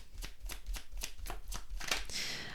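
Tarot cards shuffled by hand, a steady run of crisp riffling snaps about every quarter second, close and fairly quiet, ending in a brighter swish as cards are drawn.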